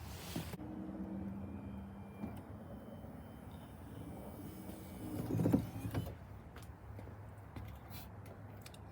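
Power tailgate motor on an Infiniti QX56 closing, a steady low electric whir that runs for several seconds, ending in a brief louder clunk as the gate latches.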